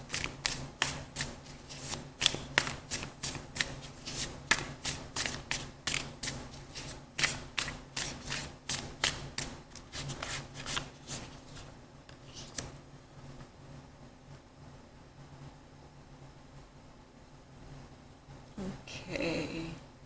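Tarot cards being shuffled by hand in quick, crisp riffles and flicks, a steady run of close papery snaps for about twelve seconds that then thins out, with a voice speaking quietly between bursts.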